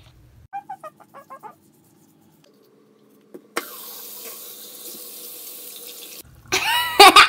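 A bathroom tap runs water steadily into a sink for a few seconds during tooth brushing, after some faint clicks and small knocks, then a short burst of splashing follows.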